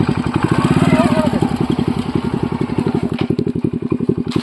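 A motorcycle engine thrums steadily at close range, its fast regular pulsing continuous throughout as the bike rides along.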